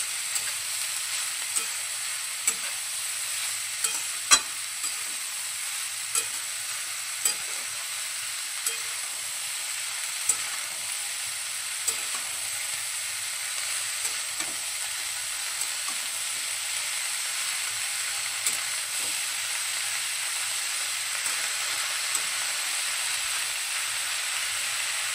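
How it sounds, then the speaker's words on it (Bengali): Mixed vegetables with capsicum stir-fried in hot oil for a spice-free veg pasta, a steady broadband sizzle running throughout with light scrapes of stirring, close and fairly loud with no talking. "এবারে সমস্ত সবজিগুলো খুব ভালোভাবে তেলের মধ্যে একটু নেড়ে চেড়ে নেব"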